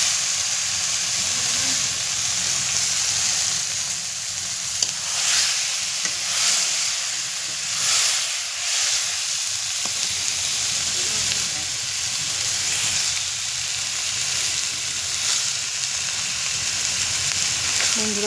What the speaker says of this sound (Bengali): চিকেনগুলো দিয়ে দেবো, মাংসর মশলাটা কষা হয়ে গিয়েছে।